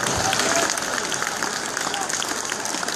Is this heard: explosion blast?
no